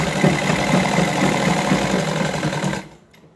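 An electric sewing machine stitches gathered fabric on a salwar, running in a close, steady, buzzing whir for almost three seconds before stopping.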